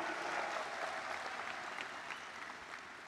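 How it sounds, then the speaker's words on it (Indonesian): Steady applause from a large audience at a mass rally and inauguration of Banser members, a dense continuous wash of many hands clapping throughout, moderately loud and slowly easing. "tepuk tangan buat kita semua"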